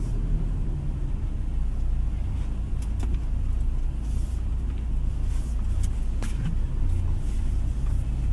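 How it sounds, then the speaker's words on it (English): A 2026 Toyota Hilux drives off-road, heard from inside as a constant low engine and road rumble with a few faint knocks and rattles. "that was an off-road drive of the Hilux"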